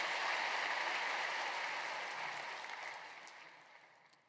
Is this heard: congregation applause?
yes